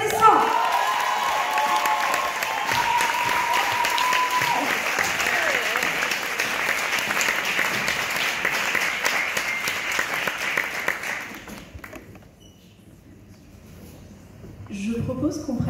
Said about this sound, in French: Madame Chérie, sous vos applaudissements